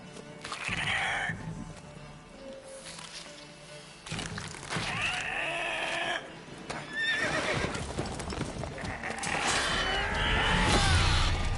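Horses in The Witcher 3: Wild Hunt neigh and whinny repeatedly amid clip-clopping hooves and game clatter, fairly loud and close, with a voice talking over parts of it.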